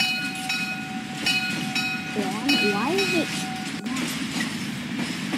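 A tram in the Roblox game Mad City rolls along with a steady rumbling rail noise and a brief rising horn-like tone in the middle, while a person talks over it.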